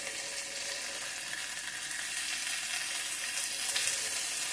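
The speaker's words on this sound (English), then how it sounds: "Now you can see how it's sizzling and cooking well there" Sirloin beef burger patties sizzle steadily in a hot pan, a close, dense crackling hiss that holds even and slightly swells toward the end, with no talking.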